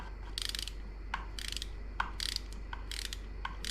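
A ratchet torque wrench set to 7 foot-pounds tightens an 8 mm bolt during an oil change on a 2016 Yamaha YZ250F, making repeated short bursts of quick metallic clicking, about eight strokes in an uneven rhythm, close and fairly quiet.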